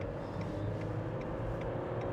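Interior drone of a Dacia Jogger Hybrid 140 seven-seater working hard under load while overtaking cyclists, a steady continuous engine and road rumble with a faint whine, no talking.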